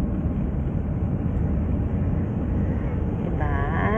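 Inside an airliner cabin on final approach to Doha, Qatar, a steady, dense low engine and airflow roar fills the space without letup, with a faint tonal sound near the end.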